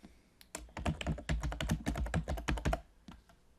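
Rapid bursts of typing on a computer keyboard as a name is entered into a form, with close, crisp key clicks in an irregular run that trails off into a few final taps.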